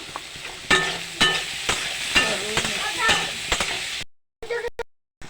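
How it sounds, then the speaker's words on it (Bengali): Salted, turmeric-dusted brinjal pieces frying in a pan, a continuous sizzle broken by repeated sharp scrapes and clinks of a spatula stirring, fairly close, with a short gap and a few more stirs at the end. "বেগুন ভাজা বেগুনগুলোকে আলাদা করে এরকমভাবে ভেজে নিতে হবে"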